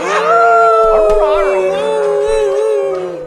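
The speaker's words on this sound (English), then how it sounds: "a very hungry wolf that had wandered out of the woods" A wolf howl sound effect from a radio play rises and holds as a loud, sustained tonal wail, with a second yelping howl layered in briefly, close and alone without speech.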